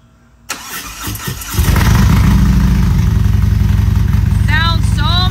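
A vehicle engine cranks and catches after a new rivet nut is fitted, then settles into a steady, loud idle that runs on to the end, with a few faint chirping sounds near the close.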